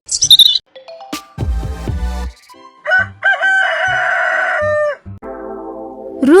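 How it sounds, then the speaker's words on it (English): A rooster crows loudly and clearly, a drawn-out cock-a-doodle-doo, amid other brief bird calls and clucks nearby. "Rooster."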